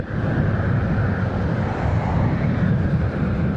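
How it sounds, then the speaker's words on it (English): An airplane on final approach to land near Kempegowda International Airport, Bangalore, a steady broad low roar heard from a moving vehicle, with wind rush over the microphone. "another plane which is going to land"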